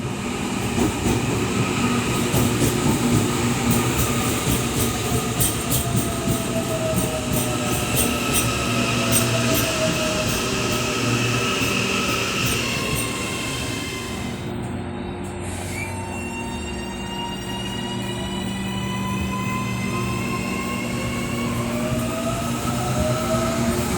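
An AM class electric train rides through Auckland toward Green Lane, heard from on board with a steady rolling drone, rising and falling motor whine and squealing wheels as it slows, no talking.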